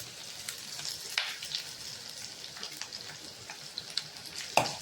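Vegetables with garlic, ginger, curry leaves, onion and green chilli sizzle steadily in a pan for vegetable rava kichdi, with faint stirring scrapes and a few sharper clinks close by.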